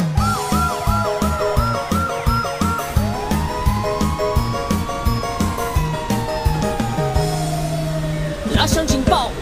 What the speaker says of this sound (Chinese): 拉响警报，哇呜哇呜